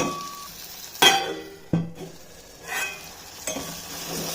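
Tomatoes and chana dal fry in a pan for chana dal curry, with a soft steady sizzle broken by several sharp clinks and scrapes of a spoon stirring against the metal, close by and without talk.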